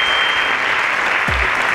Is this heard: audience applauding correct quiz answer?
yes